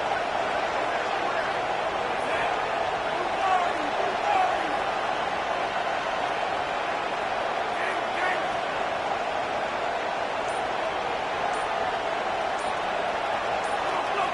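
A football stadium crowd roars continuously in a dense, steady wash of noise, loud and unbroken throughout, with a commentator talking over it.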